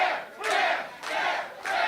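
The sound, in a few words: wrestling crowd cheering for Bear Bronson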